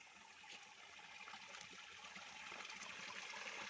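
Water runs and trickles continuously into a fishpond, a soft, steady splashing flow with no voices, growing slightly louder toward the end.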